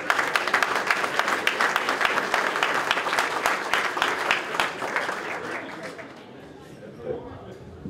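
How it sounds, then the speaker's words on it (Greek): Audience applause for a minister at a municipal event in Xylokastro, dense clapping from a crowd that holds strong for about five seconds, then thins and fades out. "Ένα χειροκρότημα για τον υπουργό."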